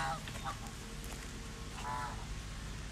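A snow goose at the Toronto Zoo's tundra area gives a few short nasal honks, faint and spaced apart over a low background rumble.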